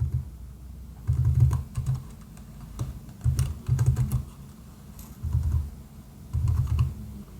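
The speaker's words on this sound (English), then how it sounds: "I'm going to retype my model using function notation." Someone types on a computer keyboard, producing soft, close clatters in short bursts separated by brief pauses in a quiet room.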